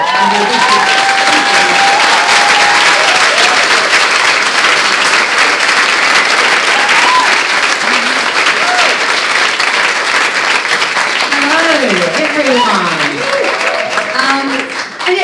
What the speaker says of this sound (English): another round of applause, please, for all of you being here